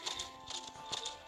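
Horse hooves clip-clop in a horse riding video game, with light hollow taps coming in three quick bursts of paired strikes, close and fairly soft.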